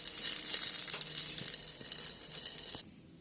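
Rice flour batter for chitoi pitha hisses loudly in a hot pan, a bright close sizzle with small crackles that cuts off abruptly near the end as a lid covers it, no voices.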